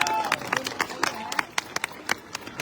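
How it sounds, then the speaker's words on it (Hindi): A crowd at a Hindi-speaking church gathering claps in brisk, uneven bursts, the applause loud and close with some voices mixed in. "जोरदार तालियां बजाओ।"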